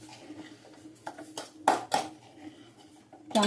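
Grated carrot stirred in ghee in a pan for carrot halwa: a spoon scrapes and knocks against the metal pan in irregular clinks, with a few louder taps, close by and without talking.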